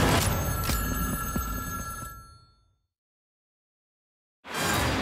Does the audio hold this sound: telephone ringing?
yes